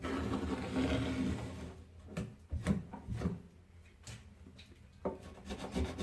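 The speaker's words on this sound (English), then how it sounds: "It took a bit of scrubbing on here on these." A stove being scrubbed during cleaning, close rasping strokes rubbing against the surface in uneven bursts, loud at first and then in shorter scrapes.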